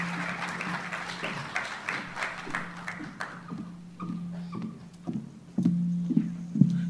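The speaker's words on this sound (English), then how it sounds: "another round of applause for Dr. Shatima." Audience applause at a local governance reform forum, a dense patter of clapping for the first few seconds that thins out to scattered claps, with faint tapping and low hum underneath.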